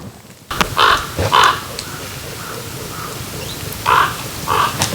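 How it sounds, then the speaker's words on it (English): Crows caw loudly outdoors in clusters of two or three harsh calls, with pauses between bursts and a steady wind-like hiss underneath. "The crows are with us today."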